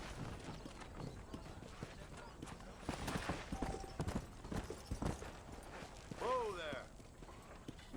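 A war horse in the Red Dead Redemption video game, its hooves clip-clopping in a steady rhythm alongside a brief whinny, with game music and a voice under the noise.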